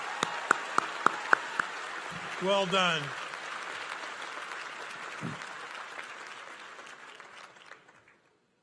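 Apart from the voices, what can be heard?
commencement audience applause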